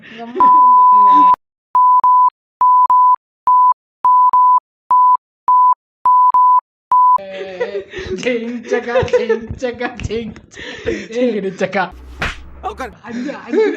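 A loud censor bleep tone, one long burst followed by a string of short evenly spaced beeps, then gives way to excited talk, laughter and a sharp slap-like hit.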